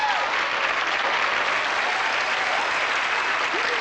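Steady audience applause fills a David Copperfield magic show from 1987, a dense, even wash of clapping that lasts almost four seconds with no talk over it.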